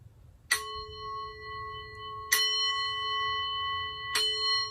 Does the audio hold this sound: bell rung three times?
yes